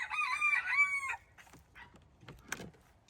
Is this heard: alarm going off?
no